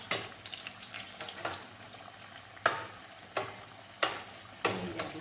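Dal samosas frying in Dalda ghee, a steady broadband sizzle with recurring louder hissing bursts as pieces are turned or added, close and continuous without any voices.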